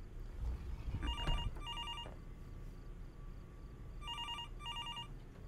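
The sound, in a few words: telephone ringing in the video game Fears To Fathom: Norwood Hitchhike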